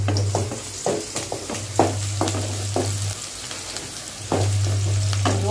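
Ivy gourd (kovakkai) fries with onions in a pan, sizzling steadily beneath repeated scraping stirs that come in quick bursts.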